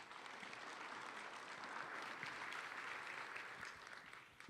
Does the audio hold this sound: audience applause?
yes